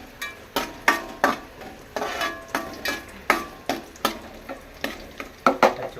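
Cashew nuts roast in a pan, stirred with a steady run of sharp scraping, rattling strokes roughly twice a second over a faint sizzle, close and clear with no talking.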